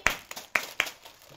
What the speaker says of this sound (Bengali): একবার হাততালি।